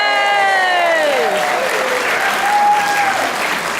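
An audience at a Relay for Life stand-up event applauds cancer survivors with sustained, dense clapping, while a few whistles and cheers rise over it.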